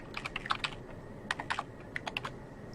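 Login details being typed on a computer keyboard, quick bursts of close, crisp key clicks separated by brief pauses, with no talking.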